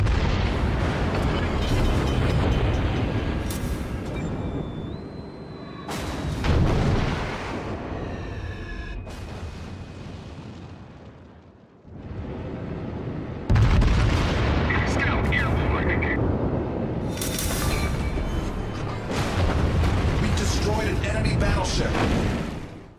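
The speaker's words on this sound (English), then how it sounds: "I'm going to be pumping shells into the boiler room area." Battleship guns fire shells in the World of Warships naval combat game, with loud booming salvos and rumbling blasts under continuous game noise and a brief quiet gap midway.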